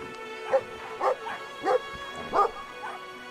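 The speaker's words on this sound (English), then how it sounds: "That is a very worrying dog." Dog barking in the video game Brothers: A Tale of Two Sons, a series of five short, whiny yelping barks evenly spaced about half a second apart, clear and close over a faint steady game background hum.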